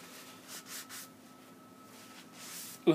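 Steel blades of Sears lawn shears rubbed against a sharpening stone, fine side, in a few soft, separate scraping strokes with quiet pauses between and a small knock at the end.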